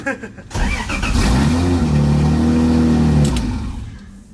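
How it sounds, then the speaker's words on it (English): A Lexus fitted with a 1JZ engine cranks briefly and fires up, settling into a loud, steady idle close by before the sound fades toward the end. "Let's go ahead and get this car fired up"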